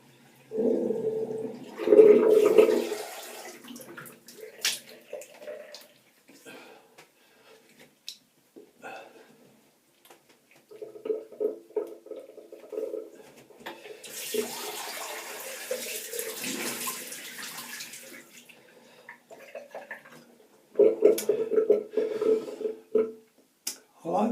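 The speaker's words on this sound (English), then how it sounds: "Just going to drain a drop of water." Water splashes and gurgles in a bathroom sink during shaving, coming in short bursts separated by quiet gaps, with a longer draining rush in the middle. The sound is close and moderately loud.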